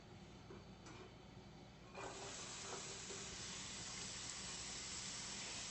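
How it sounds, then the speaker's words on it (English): One medium diced onion sautes in hot extra virgin olive oil, a faint, even hiss that steps up slightly after two seconds and holds steady, with no talking. "It's important to let your onion saute until it's nice and translucent."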